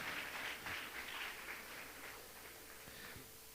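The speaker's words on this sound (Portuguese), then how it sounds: "Uma salva de palmas para as ovelhas aqui." A church congregation applauds during a spiritual warfare conference sermon, a soft, steady patter of many hands that stays faint and distant and then fades toward the end.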